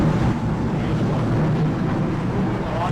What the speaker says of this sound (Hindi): आवाज़ आ रही है पानी का प्रेशर।